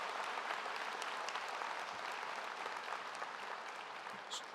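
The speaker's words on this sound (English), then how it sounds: "Give her a nice round of applause." A graduation audience at Utica High School applauds its senior advisor, a dense, steady wash of clapping from many hands that carries on evenly and fades slightly toward the end.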